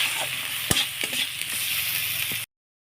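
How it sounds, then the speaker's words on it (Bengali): Spice paste with salt stir-fried in a pan, a close, steady sizzle with a few sharp scrapes of the spoon, then cutting off abruptly. "স্বাদ মতন লবণ দিয়ে ভালো করে মশলাটা এবার আমি কষে নেব।"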